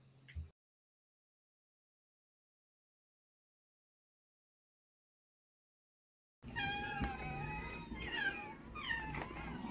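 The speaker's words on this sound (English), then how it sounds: "Nothing but cats, everyone." Cats meow in a run of close, repeated, drawn-out cries that start after a long stretch of silence and continue to the end, preceded only by a brief faint sound.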